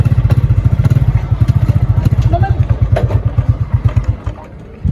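A motorcycle engine idles close and loud with a fast, even putter of exhaust pulses that slowly loosens before cutting out just before the end.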